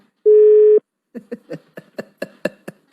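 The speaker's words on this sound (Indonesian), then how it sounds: "Sekarang kita akan coba telepon Lembu ya." A phone call is placed: a steady half-second dial tone, then a rapid sequence of about ten short touch-tone beeps, loud and close, with no voices.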